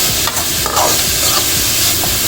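Beetroot and cabbage frying in oil with salt, a loud dense sizzle running throughout while the vegetables are stirred, with a few scraping strokes close by.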